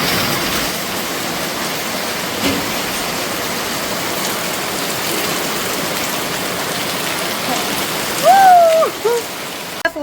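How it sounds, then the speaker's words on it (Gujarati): Rain falls steadily over a residential housing society as an even, continuous hiss throughout, with a brief tonal squeal near the end. "અમારા હર્ષિલ બાબુ વરસાદની મજા લે છે."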